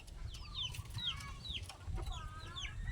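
A bird calls in short, repeated chirps and whistles over a low, steady rumble of background noise, with chicken-like clucking mixed in nearby.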